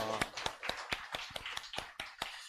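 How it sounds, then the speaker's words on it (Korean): A church congregation gives a short round of clapping during a Sunday service, sharp claps sounding in a loose, irregular rhythm, fairly faint and close, with no talking over it. "하나님께 감사 영광 박수 올려드리겠습니다"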